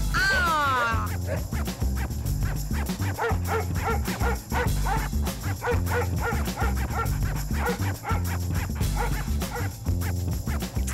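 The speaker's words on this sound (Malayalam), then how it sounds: "എക്സ്ക്യൂസ് മീ, ആ പട്ടി ഒന്ന് മാറ്റി നിർത്തൂ" A dog barking and yipping rapidly in a steady series of sharp, close barks, with a brief whining whimper at the start.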